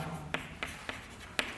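Pen strokes on paper while a math solution is written out for a differentiation lesson, a few quiet scratches and four soft taps spaced through a faint, steady background.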